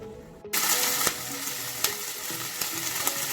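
Sliced pork belly seasoned with salt and pepper starts frying in a pan, a loud, steady sizzle beginning abruptly and carrying on as the fat renders, with a few sharp pops and crackles breaking through.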